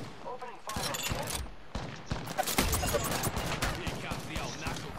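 Rapid gunfire in Apex Legends comes in dense bursts of sharp shots, with several loud cracks that sound close. Voices talk throughout the shooting.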